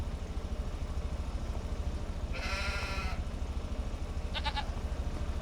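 Sheep on a snowy farm give a single close bleat and later a short, quavering second bleat over a steady low engine rumble.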